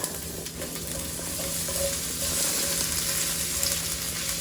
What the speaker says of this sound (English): I'm gonna throw in some ginger, garlic.